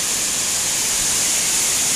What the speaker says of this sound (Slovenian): Slap Šum.